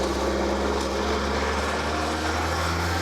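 A 1992 Land Rover Defender 110 station wagon with automatic transmission drives along, its engine giving a steady low drone with harmonic hum, heard continuously from inside the cabin with no talking.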